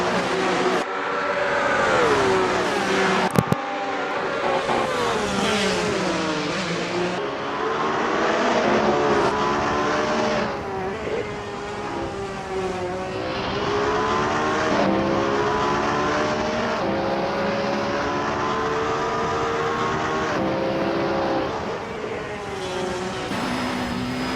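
Touring cars racing on a track in a racing video game, engines droning steadily at high revs throughout with shifting pitch as they run down the start-finish straight, loud and continuous with no talk.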